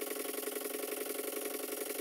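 A vintage model open steam launch engine turning over on compressed air, with silicone rubber tubing fitted to its exhaust pipe, gives a steady, rapid, even run of soft chuffing beats at low volume.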